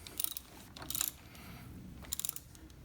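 A ratchet wrench works on an engine mount bolt of an AMF-era Harley-Davidson Shovelhead Lowrider during engine removal, making quiet bursts of rapid clicking in three short runs.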